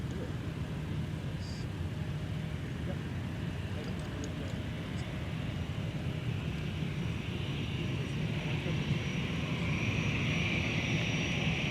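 A fixed-wing airliner takes off from runway 12 left at Minneapolis airport, a steady, continuous engine roar that swells slightly toward the end, heard from a distance with faint tower radio chatter in the background.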